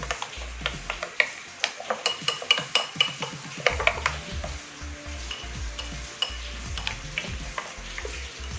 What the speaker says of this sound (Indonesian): Diaduk sampai rata.